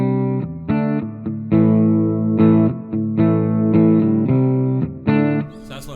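A Godin xtSA solid-body electric guitar played through a Spark Positive Grid amp sounds a run of distinct, sustained chords and notes with light reverb, loud and close, alone without talk.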